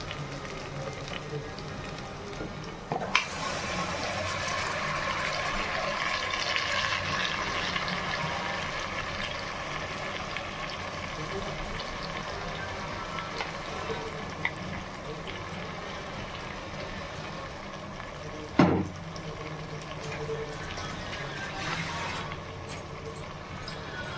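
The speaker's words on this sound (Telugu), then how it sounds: "సో ఇలా కొద్దిసేపు బాగా ఫ్రై అయిన తర్వాత ఇందులో మనం ఏదైతే మ్యారినేట్ చేసుకున్నామో అది మటన్ వేసేసుకుందామండి" Marinated mutton sizzles and bubbles in a pan for donne biryani, a steady close frying hiss with an occasional clatter of a utensil, while someone talks over it.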